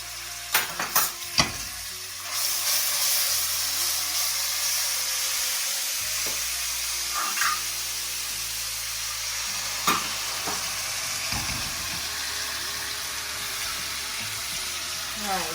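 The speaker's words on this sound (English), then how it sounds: "I have to put the oil in, and this garlic and ginger is cooking" Garlic and ginger frying in oil for a chicken korma, giving off a steady, close sizzle with a few sharp clinks of stirring near the start.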